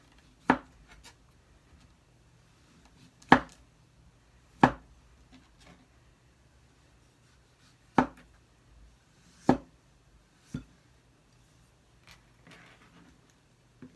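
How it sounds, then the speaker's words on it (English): A knife chops through butternut squash peels on a board, giving sharp, distinct knocks spaced a second or two apart, about seven in all, with quiet between them and no talk. "just chopping the peels out of the way, so that I can actually put them straight in the compost"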